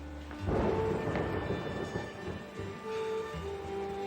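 A deep rumble of thunder rolls in and fades, followed by a quieter second rumble, with a faint steady hum underneath.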